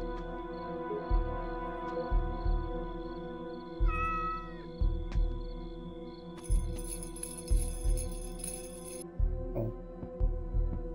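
A cat meowing in the video game DreadOut 2, a few distinct mewing calls over a looping, pulsing thump and a droning game background.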